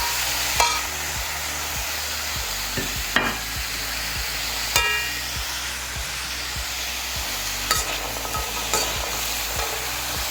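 Drumstick curry with tomatoes gets stirred in a frying pan, with a steady sizzle under repeated close scrapes and taps of a spoon at an uneven rhythm, and no voices.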